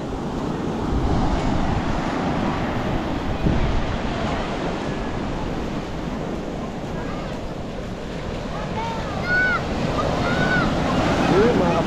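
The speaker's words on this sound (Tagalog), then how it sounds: "malakas yung alon" Strong ocean waves roar steadily along a shore during low-pressure weather, with wind buffeting the microphone. Under the continuous surf rumble, a few faint whistling sounds come through.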